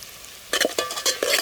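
Green chilies, onion and turmeric fry in a pan for a mutton curry, with a few loud stirring scrapes and sizzling bursts starting midway, close and without talk.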